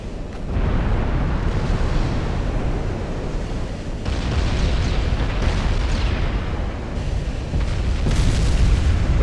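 Repeated naval shell explosions from a Texas battleship salvo in Ultimate Admiral Dreadnoughts, a dense run of loud, rumbling booms that overlap into a continuous roar for the whole stretch, with fresh impacts near 4 and 8 seconds.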